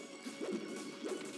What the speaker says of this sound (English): pivot F smashes to punish